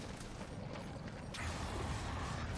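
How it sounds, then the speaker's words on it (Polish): Stone door mechanism grinding open in the video game Darksiders 2, a low creaking rumble that swells about halfway through and keeps going, close and steady with no talk. "Otwieramy drzwi."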